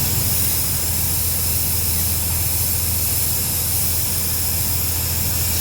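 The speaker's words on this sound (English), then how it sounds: "it's leaking so bad and you're losing air pressure" Compressed air hisses continuously from a leak as the system loses pressure, a loud, close, unbroken rushing noise.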